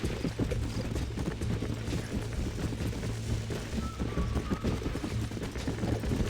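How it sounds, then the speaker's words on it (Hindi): In the Red Dead Redemption video game, horse hooves pound in a fast, steady gallop, close and loud, over a low droning background with scattered thumps and a brief whistle-like tone midway. "तो अब हमें हॉर्स पर बैठ सवार होना होगा"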